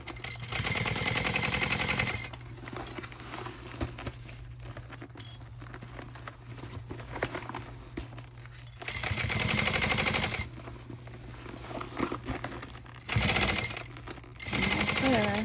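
A sewing machine stitches tote bag handles in fast, steady mechanical bursts, with a long run at the start and shorter runs later, separated by quieter pauses of fabric handling.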